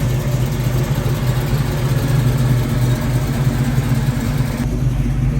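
A 1967 Ford Mustang Fastback, not started for a few months, idles steadily with a loud, even, low rumble that continues throughout without talking.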